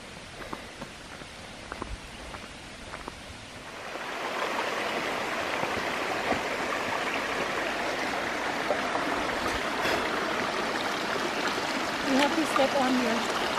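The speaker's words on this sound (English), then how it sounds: "Yeah, I can hear the water." Steady broadband rush of a flowing water stream in northeast Thailand that grows louder after a few seconds, with soft footsteps and brief voices early on.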